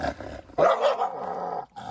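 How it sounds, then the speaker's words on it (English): A dog in a Thai botanical garden barks and growls close by, a sharp bark followed by a sustained low growl, with no talk. "Oh, this dog."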